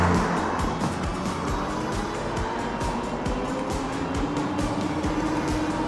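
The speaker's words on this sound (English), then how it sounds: "There's a car coming in." Cars pass close by a cyclist riding on a road, a steady loud whoosh of tyres and engine rushing past without pause, with wind noise throughout.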